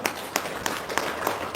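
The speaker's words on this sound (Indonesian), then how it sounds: "Tepuk tangan dong." An audience at a religious talk gives a short burst of applause: a few distinct, evenly spaced claps ring out in a steady rhythm over a light crowd murmur.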